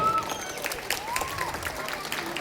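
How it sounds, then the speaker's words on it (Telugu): Audience at a Sankranti rangoli competition in Ahmadguda applauding a first prize winner, a dense burst of clapping from a nearby crowd lasting the whole moment, with a voice over it. "క్లాప్స్ గట్టిగా పెట్టాలి."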